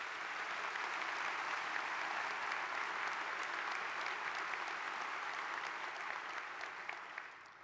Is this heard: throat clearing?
no